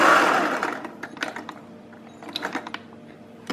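A sewing machine stitching a dress side gusset, starting with a short run of stitching and then giving way to scattered light mechanical clicks and taps, close by with no talk.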